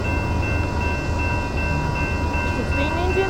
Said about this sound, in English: That's the largest steam locomotive currently running.